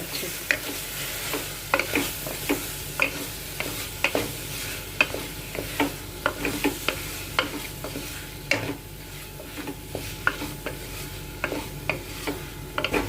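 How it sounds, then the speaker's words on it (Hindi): Tomatoes fry in a pan with salt and garam masala, giving a low, steady sizzle broken by repeated sharp scrapes and taps of a spoon stirring against the pan. "बस टमाटर थोड़े से मशी होने लगे उतना ही भूनना है।"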